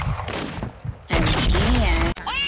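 A sniper rifle shot in a sniper-only free-for-all video game match rings out as a loud, sharp crack with a brief echoing tail, while several players talk excitedly over it.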